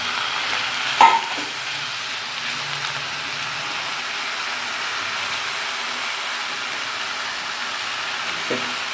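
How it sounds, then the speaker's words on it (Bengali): Whole spices spattering in hot oil, a steady, fine sizzling crackle with a sharp pop near the start and a faint clink toward the end. "এত ফাটছে, আমার হাতে এসে লাগছে তেল"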